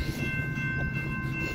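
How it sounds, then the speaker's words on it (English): A BNSF coal train rolls past nearby in Battle Creek, Michigan, its steady rumble of rail cars filling the air with a high, sustained horn tone held over the top. "We got Bnsf coal train coming"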